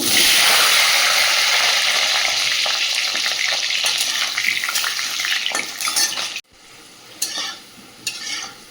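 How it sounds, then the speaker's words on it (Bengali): Loud, steady sizzling of potatoes frying in hot oil, with occasional stirring and utensil scrapes; the sizzle briefly drops and resumes near the end. "কড়াইতে তেল দিয়ে দিয়েছি, আলুগুলো ভেজে নেব"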